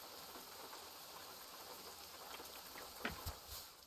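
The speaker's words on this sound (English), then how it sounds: "it's still raining" Steady rain falling in the trucking game American Truck Simulator, a soft continuous hiss throughout with a few brief louder patter bursts near the end, no talk.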